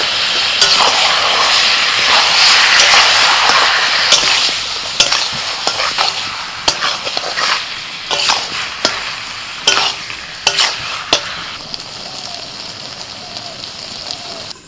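Chicken coated in whisked yogurt, turmeric and a roasted spice mix sizzles loudly in a pan, broken by repeated sharp scrapes and knocks of a spatula stirring it, close and prominent.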